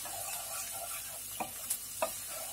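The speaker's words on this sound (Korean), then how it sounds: "달궈진 팬에 마늘을 1분에서 2분 정도 볶아준 후에" Garlic being stir-fried in oil in a hot pan: a soft, steady sizzle with a few quick scrapes and stirring clatters near the end, close and fairly quiet, no voices.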